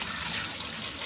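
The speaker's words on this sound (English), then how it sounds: "I'm just going to rinse my chicken with some warm water" A tap runs warm water to rinse raw chicken pieces, giving a steady close hiss of splashing flow over a short moment.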